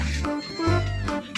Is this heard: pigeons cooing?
no